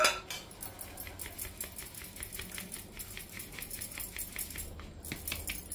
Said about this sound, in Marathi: मी अर्धा डब्बा बारीक रवा घेतलेला आहे, तोही आपण चाळून घेऊया।